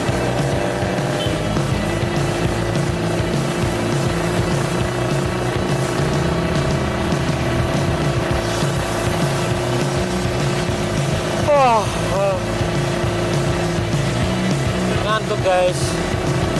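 A modified semi-freestyle motorcycle rides through Ambon city at night, its engine a steady droning hum with shifting pitch throughout, joined by brief sweeping whines near the end.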